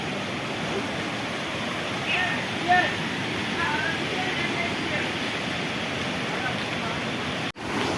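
A large volume of water rushes past in a steady, loud roar, like a strong stream or flood current, filling the whole stretch with broadband noise and one brief dropout near the end.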